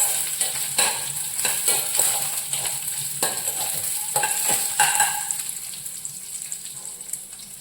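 Pongal is stirred briskly in a pot over a hot sizzle, with repeated close scraping and clinking strokes of a spoon against the metal that slow toward the end.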